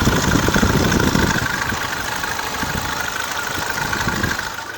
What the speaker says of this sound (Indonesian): Jadi dia bukan electric fan, tapi fan-nya fan nyambung ke puli ke mesin. Masih halus ya.